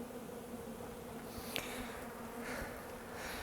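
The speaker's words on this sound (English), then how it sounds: "take the rest of our bees and just set the box right in front of the hive" Package honey bees buzz steadily around a hive entrance outdoors, a dense continuous hum from many insects, with a brief tap partway through and no talk.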